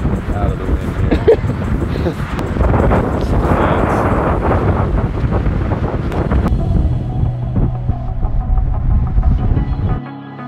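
Strong wind buffets the microphone on an exposed mountain knob, a loud, continuous roaring rush with gusty surges that drops away abruptly at the end.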